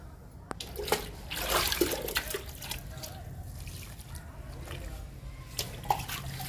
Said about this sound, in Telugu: తులసికి, లావెండర్కి లిక్విడ్ ఇచ్చేద్దాము.